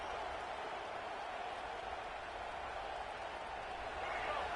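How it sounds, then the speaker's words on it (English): Steady, dense roar of a college football stadium crowd during Texas A&M versus Auburn, a continuous broadband wash of massed voices holding at an even level throughout. "The roar of the crowd trying to fuel this defense"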